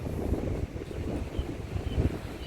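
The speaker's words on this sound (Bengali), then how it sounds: "খুব সুন্দর হাওয়া দিচ্ছে" Steady wind blowing on a beach, a broad rumbling rush with gusty low-end buffeting, no voices.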